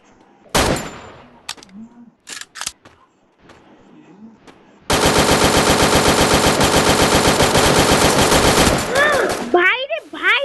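Gunfire in a WuKong shooting video game, with a few sharp shots, then a long sustained burst of rapid automatic fire that stops abruptly, followed by brief warbling effects.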